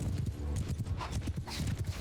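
Horses' hooves clip-clop in Mount & Blade II: Bannerlord, a quick, uneven run of many overlapping hoofbeats from riders on the move, loud and close.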